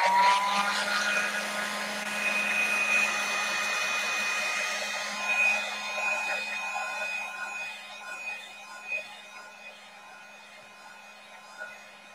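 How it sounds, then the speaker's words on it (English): A heat gun blowing on a painted paper collage: a steady, close whooshing hum with a faint whine that holds for the whole stretch, varying only slightly in strength. "heat gun a little bit"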